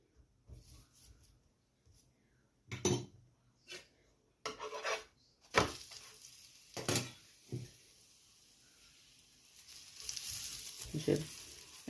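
Radish paratha roasting in ghee or oil on a hot pan gives off soft sizzles and scraping bursts, each one brief, with quiet gaps between them and a steadier sizzle toward the end.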